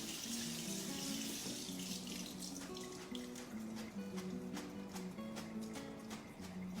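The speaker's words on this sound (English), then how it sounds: "I've poured my 2 cans of beans, white and red kidney beans, in here, and I'm going to rinse them off." A kitchen tap runs steadily over two cans' worth of red and white kidney beans being rinsed, a continuous close splashing flow with scattered drips.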